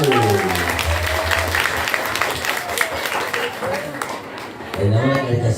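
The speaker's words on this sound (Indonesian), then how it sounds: "tepuk tangan atuh" Audience applause at a humorous Sundanese religious sermon, a dense steady patter of clapping that runs for several seconds, with voices audible through it and a brief dip before it swells again.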